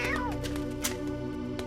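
A cartoon cat meows over a busy animated soundtrack, a short rising-and-falling cry near the start layered with music and effects, with speech nearby.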